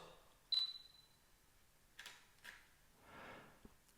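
A Fujifilm GFX 100 medium-format camera fires its shutter for a handheld shot: one crisp click stands out near the start, followed by a few softer mechanical clicks and a brief rustle in a quiet room.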